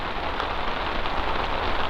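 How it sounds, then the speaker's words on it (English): Rain patters steadily on a car sunroof, a dense, even drumming heard from inside, close and moderately loud, with no voices. "We got rained out. Listen, you can hear it hitting the sunroof right now."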